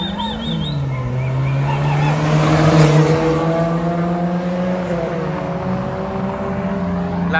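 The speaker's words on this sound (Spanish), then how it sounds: "Ah, es un Spark y un Zuru, ya dijo el Eric" A Chevrolet Spark street-races another car in Culiacán at night, a loud, steady engine drone with a rising pitch, as if accelerating hard nearby. It is heard without talk.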